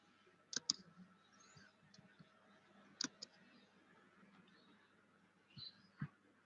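Computer mouse clicks while cells are picked in a spreadsheet, a few sharp faint taps spread out, some in quick pairs, over a quiet room hum.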